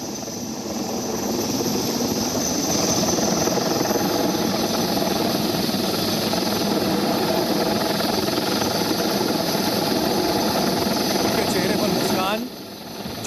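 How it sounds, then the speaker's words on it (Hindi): A helicopter during a flood rescue in Gujarat gives a steady, loud rotor and engine roar for about twelve seconds, then drops off abruptly near the end. "हेलीकॉप्टर से लोगों को रेस्क्यू किया गया है।"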